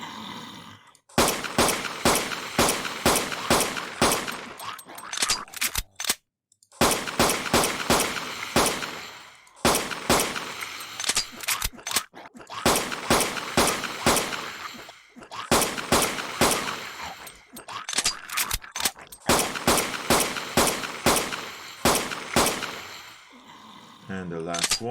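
Rapid bursts of gunfire from a Unity first-person shooter game while zombies are shot, coming in repeated clusters of quick shots separated by short pauses, fairly loud and close.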